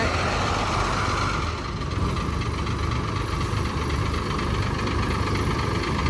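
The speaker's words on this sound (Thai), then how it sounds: "เราก็เลยให้รถสไลด์สิบล้อ คันนี้นะคะมา เอาไปส่งให้ลูกค้า" A ten-wheeler slide-bed tow truck, about 47 years old, idles with a loud, steady low diesel rumble and a faint knocking texture, close by and unbroken; no one speaks.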